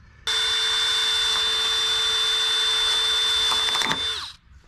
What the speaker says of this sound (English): we're just letting the drill bit do the work